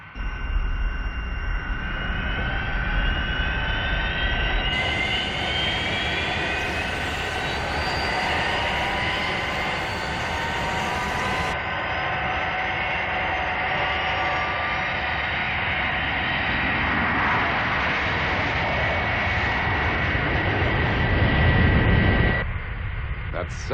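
The Fireflash, an atomic-powered airliner, takes off with a loud, continuous roaring engine drone and whining tones that hold for over twenty seconds, swelling toward the end, with a brief voice over it.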